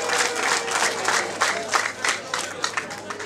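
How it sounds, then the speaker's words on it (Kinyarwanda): Wedding guests applaud and cheer as a crowd, a steady wash of clapping and voices with a few brighter bursts, close and continuous throughout. "Tubakire mubakomera amashyi menshi n'impundu cyane"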